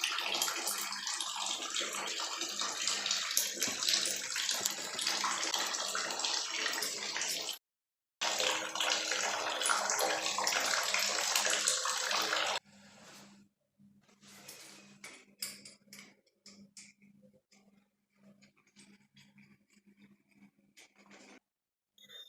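A leaking shower runs fast with its valve closed despite low water pressure. A loud, steady hiss of spraying water lasts about twelve seconds with one brief break, then quieter scattered drips and trickles follow.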